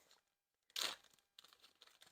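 Small engine valve keepers from a Subaru Sambar go into a plastic bag, giving one loud crinkling rustle followed by quieter crackles, with no talk.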